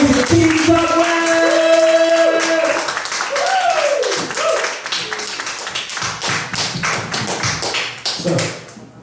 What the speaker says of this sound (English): So we need just as big, if not bigger, claps and cheers.